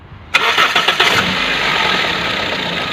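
A Toyota Etios running on CNG, with an engine misfire, cranks and starts close by after a moment of quiet, the starter chatter catching into a loud, slightly uneven idle that carries on to the end.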